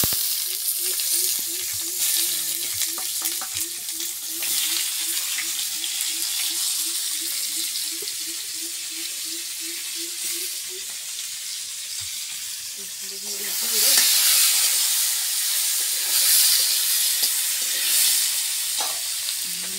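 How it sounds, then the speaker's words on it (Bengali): Brinjal slices fry in a pan with a steady, close sizzle of hot oil that grows louder and busier toward the end, while a faint voice speaks in the background. "বেগুন ভেজে দিব।"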